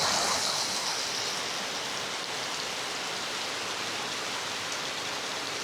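Heavy rain pours steadily on a rainy day where paddy is being parboiled, a dense, continuous broadband wash of drops with no pauses and no voices.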